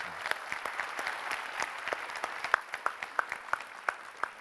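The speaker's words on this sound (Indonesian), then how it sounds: "Tolong tepuk tangan untuk Najwa" A studio audience at a television talk show applauds a host named Najwa, an even crowd of clapping with a few sharper, distinct claps standing out, steady and moderately distant throughout.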